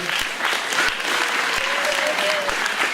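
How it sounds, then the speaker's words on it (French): Audience applause at a Téléthon 2014 event in Saint-André-les-Alpes: dense, continuous clapping from a crowd fills the room throughout, with a voice faintly heard beneath it. "On peut l'applaudir."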